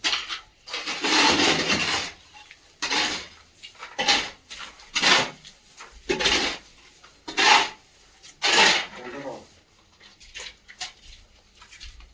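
Net cement being scraped and smoothed onto a leaking corner of a house roof, heard as irregular close rasping and rubbing strokes with short pauses between them, no talk.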